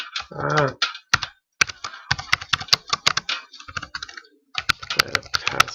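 Someone types a password on a computer keyboard, with quick irregular bursts of key clicks interrupted by short pauses.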